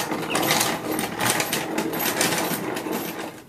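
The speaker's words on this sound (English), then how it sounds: "And then spin it some more." A centrifugal honey extractor spins honeycomb frames with a rapid, rattling mechanical whir and faint rhythmic clatter, steady and fairly close throughout.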